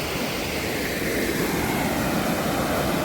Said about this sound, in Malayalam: നല്ല സൗണ്ട് ഉണ്ട് വെള്ളം പോണത്.